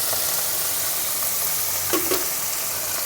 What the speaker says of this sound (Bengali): এবার আমি কিছু গুঁড়ো মশলা দিয়ে দিচ্ছি, একটু হালকা গরম জলে মিশিয়ে